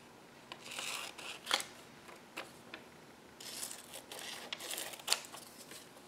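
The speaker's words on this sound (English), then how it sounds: "So I think when I trim this one, I wanna keep some of the shapes by doing this." Scissors snip and trim paper for a journal collage, with a run of close, crisp cuts and rustling sheets, a few sharper snips standing out, and no talking.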